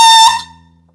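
A saxophone mouthpiece is blown with the instrument attached, producing a loud, bright, buzzy sustained tone that cuts off after a fraction of a second and leaves a fading ring.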